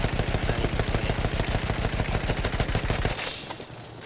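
A long, rapid burst of automatic gunfire rattles loudly and continuously in the World War I shooter game Battlefield 1, then cuts off abruptly into quieter game ambience.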